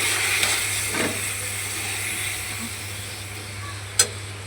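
Milk poured into hot vermicelli in a pan for a sweet jorda shemai, giving a steady close sizzle and hiss with a low hum beneath and a sharp clink near the end.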